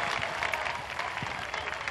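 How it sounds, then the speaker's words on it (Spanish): A crowd at the 2017 daytime carnival in Las Palmas de Gran Canaria applauds the town hall with steady, dense clapping and light crowd noise through a brief stretch. "Un fuerte aplauso para el ayuntamiento."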